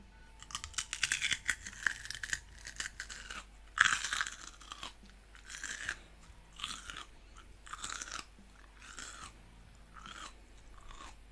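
A human voice imitates a cat crunching dry food, producing a run of irregular, close crisp crunches and bites that come in bursts with short gaps, with no speech.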